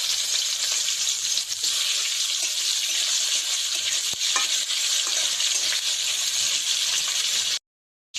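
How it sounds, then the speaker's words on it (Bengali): Jackfruit and two potatoes fry in a pan with cumin, bay leaf and cinnamon, giving a steady close hiss and sizzle with a few faint stirring scrapes, then a brief cut to silence near the end. "কাঁঠাল আর 2টা আলু দিয়েছি, এগুলো ভালো করে ভেজে নিচ্ছি আলাদা করে।"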